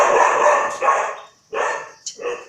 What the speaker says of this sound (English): it's a dog, y'all.